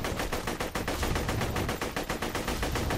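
Rapid crackling bursts from a fireworks display exploding in quick succession, a dense, loud, continuous barrage of pops and bangs with no pauses.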